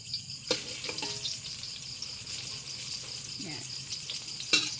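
Eggplant omelette (tortang talong) frying in hot oil in a pan, a steady soft sizzle with a few sharper pops and clinks, a brief word spoken over it.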